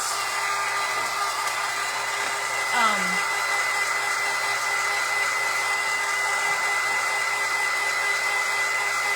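A hair dryer blows steadily at close range over a handmade craft piece, a loud continuous whir holding unchanged for several seconds with a faint brief squeak partway through.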